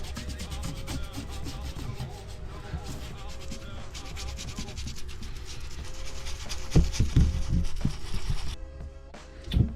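A beige leather steering wheel is rubbed clean in steady, continuous scrubbing strokes, close up and moderately loud, with a few heavier rubs toward the end.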